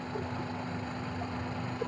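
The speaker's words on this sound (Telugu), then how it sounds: "ఇంజిన్ స్టార్టింగ్ లోనే ఉంది ఫ్రెండ్స్" A 2014 Maruti Alto 800 LXI petrol car engine idles with a steady, quiet low hum that holds an even tone throughout, heard alone without speech.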